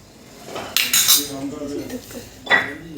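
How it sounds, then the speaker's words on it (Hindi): Lid set onto a container of freshly cultured setting yogurt in a home kitchen, a few sharp clinks and clatters of metal and dishware, close and fairly loud. "फिर इसको ढक्कन दिया"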